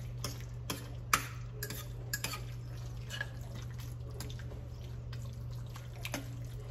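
Barbecue sauce gets mixed into pulled pork in a slow cooker, producing soft, faint wet stirring and scraping with a few light clinks, continuous and close over a low steady hum.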